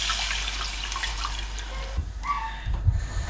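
A cup of chicken-cube yakhni stock is poured into a cooking pot for Moroccan spicy saffron chicken, giving a steady close liquid rush that breaks into splashes and gurgles toward the end.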